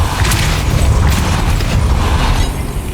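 Depulso force spell cast in the video game Hogwarts Legacy, a loud rumbling magical burst with a low boom and crackling mechanical texture, sustained and dense throughout with no talking.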